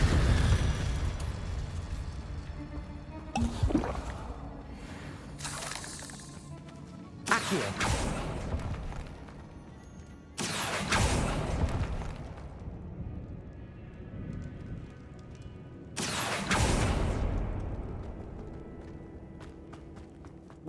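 Confringo blasting-spell explosions in Hogwarts Legacy: four loud, booming bursts spaced several seconds apart, each fading out over the rumble of combat, with a voice casting spells between them.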